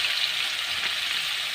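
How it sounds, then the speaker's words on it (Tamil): Tomatoes with salt and turmeric sauté in a pan, giving a soft, steady, close sizzle with no voices. "மஞ்சத்தூள், உப்பு போட்டு நல்லா தக்காளி வதங்குற வரைக்கும் உப்பு போட்டு வச்சு நல்லா வதங்கிடும்."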